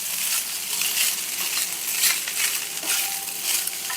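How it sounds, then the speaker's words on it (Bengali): Leftover cooked rice with black pepper powder is stirred and tossed in a hot pan, giving a steady, dense sizzle with soft scraping and rustling throughout. "আমি আবারও খুব ভালো করে একসাথে নেড়ে চেড়ে সবগুলো একসাথে মিশিয়ে নেব।"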